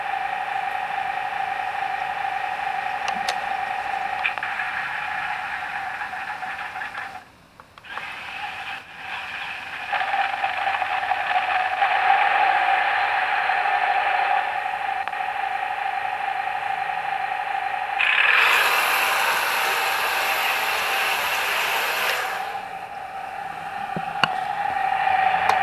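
A Heng Long RC Tiger tank with an upgraded speed motor drives straight forward at top speed, giving a steady whirring electric motor hum with a brief dip midway and a brighter, louder whine near the end, with no voices.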